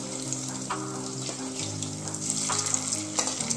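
Gokul pithe, a Bengali sweet fritter, frying in hot oil, giving a continuous sizzle with scattered bubbling pops and a few soft knocks from stirring or turning, close by and with no talk.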